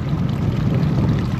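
Small boat heading out of a bay onto a windy lake, with steady broadband wind and water rumble that stays loud and even throughout, with no talk.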